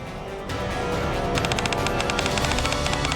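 Artillery barrage in the video game NIKKE, with continuous heavy rumbling gunfire that turns into rapid, rhythmic bursts of shots partway through, loud and steady with no talk over it.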